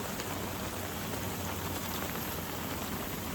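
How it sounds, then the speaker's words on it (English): Steady rain falling outdoors during a wet winter day in the Pacific Northwest, a dense, even hiss of drops on surfaces that stays constant throughout with no voices. "It's raining, but this is so cool."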